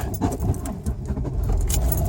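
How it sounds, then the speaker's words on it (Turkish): A manual car with a broken clutch cable is started on the ignition while in first gear and lurches forward, giving a steady close rumble of engine and road noise with faint jingling of keys and no talk. "kontağa basaraktan aracımızı hareket ettiriyorum"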